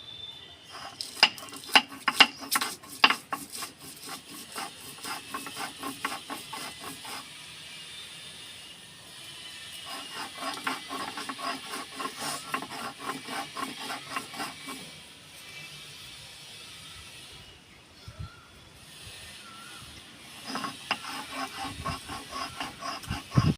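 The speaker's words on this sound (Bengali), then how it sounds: "এই যে পোস্তর সঙ্গে আমি দুটো কাঁচা লঙ্কা বেটে নেব।" Poppy seeds ground with two green chillies on a grinding stone, a repeated rhythmic scraping and rubbing in bursts with short pauses between, close and moderately loud with no talking.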